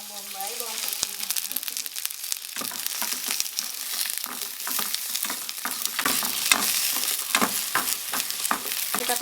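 Onion and garlic sizzle and crackle in a little hot oil, loud and close throughout, with stirring clatter and sharp pops scattered across the steady frying hiss.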